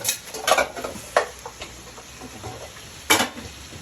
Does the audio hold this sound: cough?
no